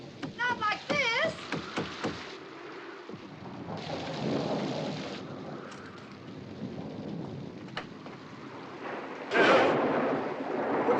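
A thunderstorm with rain rumbles steadily for about eleven seconds, with low thunder swelling and fading under a frantic pleading voice at the start and a louder crash near the end.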